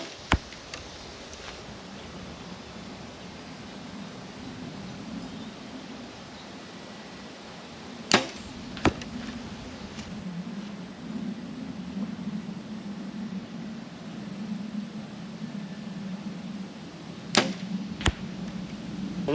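Arrows shot from a bow at 50 yards during archery practice, a steady outdoor hiss broken by two pairs of sharp snaps about nine seconds apart, each shot followed quickly by an impact.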